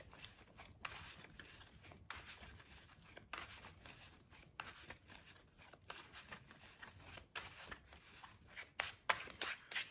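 Yu-Gi-Oh! playing cards being shuffled repeatedly, a soft riffling and flicking with sharp snaps every second or so, close and quiet.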